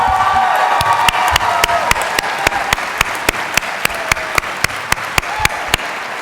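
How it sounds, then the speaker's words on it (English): Graduates at a university winter commencement ceremony give themselves sustained applause. A dense, loud clapping crowd fills a large hall, with a few sharper individual claps standing out. "Give yourselves a round of applause."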